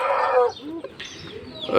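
An aseel rooster gives a few short, throaty clucks and calls close by, with a brief bright squawk near the end.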